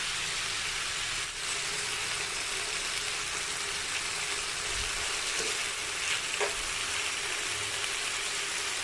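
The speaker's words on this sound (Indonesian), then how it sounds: "Ini hanya digoreng setengah matang." Chicken pieces sizzle and crackle in hot oil in a frying pan while half-done, a steady close hiss with occasional pops and a faint scrape of stirring, no voices.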